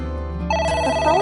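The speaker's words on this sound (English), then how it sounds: "The phone is ringing." A phone rings in a PS4 video game, with a steady, electronic tonal ringtone that is loud and close, alone, over a low sustained background tone.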